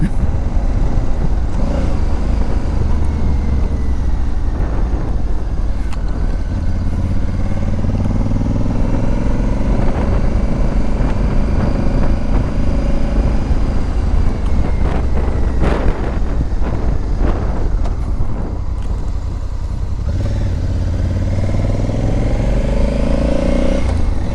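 Honda Africa Twin motorcycle ridden in Colorado, its engine droning steadily under heavy wind buffeting, with pitch rising and falling as gears shift and the rider accelerates.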